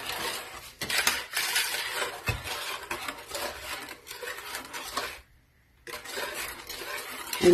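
Sweet Easter bread ingredients, including yeast, being mixed in a bowl produce busy scraping and clinking of a utensil against the dish, with a short pause before the stirring resumes.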